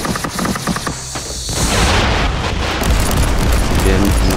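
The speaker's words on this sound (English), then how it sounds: "nice hits with the cyclone missile launcher there, killing off all such enemies" Cyclone missile launcher volleys from Warhammer 40,000: Inquisitor, rapid loud gunfire and booming impacts that build into a dense, continuous barrage after a brief quieter opening.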